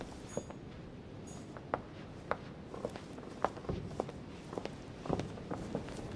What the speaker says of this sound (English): These are some solid ASMR footsteps.